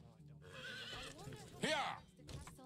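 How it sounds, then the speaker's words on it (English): A horse whinnies in the medieval game Medieval Dynasty, a rising and falling neigh near the middle of the clip, with softer game ambience and faint hoof sounds around it. "There's the horsey."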